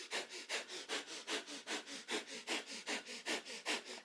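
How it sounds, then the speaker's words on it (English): Rapid nasal panting in a steady rhythm, about four sharp sniff-like breaths per second, close and clear with no talking, as in a kundalini yoga breath of fire. "Breath of fire is our panting breath through the nose."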